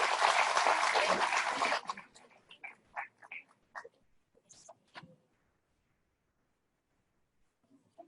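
Audience applause at a teachers' panel event, a dense burst of clapping that cuts off after about two seconds, followed by scattered faint knocks and sounds, then near silence.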